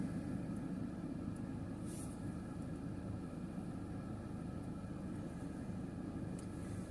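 A helicopter takes off at Davis-Monthan Air Force Base, heard as a steady, distant engine rumble that holds at an even level throughout, with no talking.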